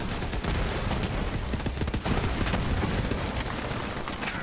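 Digistruct torpedoes exploding in Borderlands 3, a dense, continuous barrage of booming blasts and gunfire-like bursts rolling on for several seconds with no pause.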